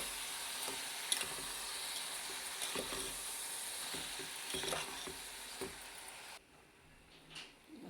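Turmeric-spiced pieces sizzle steadily in a pan while a spoon stirs them with intermittent scraping clicks; the frying hiss drops away near the end.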